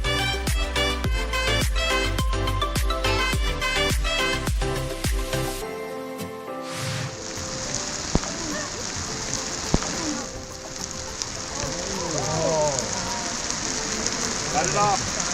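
Hail pelting down during a summer whitewater trip, a dense steady hiss of impacts with sharp knocks in the first seconds, then a continuous close wash of falling ice and water while a voice speaks faintly underneath.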